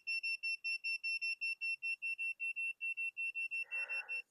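A cheap pen-style multimeter in continuity mode gives a loud, rapid series of about twenty short, high electronic beeps, steady in rhythm. The beeps end with a brief burst of scratchy noise.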